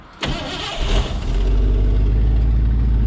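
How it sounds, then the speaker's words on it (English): A 1968 Ford F100 truck engine cranks over briefly, catches and settles into a loud, steady idle that fills the rest of the clip, with no talking. "I'm gonna take this, give it a little more idle, just a little more, crank it up."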